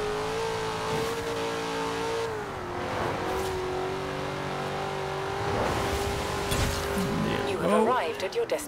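A Chevy engine accelerating in Forza Horizon 4: a steady, loud, sustained drone dips and climbs through gear changes, then swells with rougher revving and a brief tire squeal at the end.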